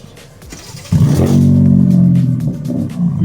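BMW M car with an Akrapovič exhaust revving nearby, a deep loud droning roar that rises sharply after a quiet start and holds steady with a resonant rumble, no talk over it.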